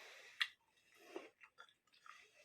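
Someone eating lamb biryani with gravy in London, giving a few soft, separate chewing and crunching bites with quiet gaps between them, close to the listener.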